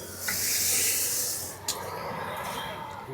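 Dry lentils poured into a pot of hot water for boiling dal, giving a broad steady hiss with a short splash partway through, close and fairly quiet, with no talk.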